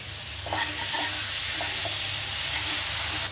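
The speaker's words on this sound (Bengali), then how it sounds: "এবার এই সেমাইটাকে প্রপারলি ভাজতে হবে। জালটা একদম কমায় দিয়ে একটু ভেজে নিলাম।" Vermicelli frying in a pan on very low heat, a steady bright sizzle with a few soft spatula scrapes and stirs running throughout.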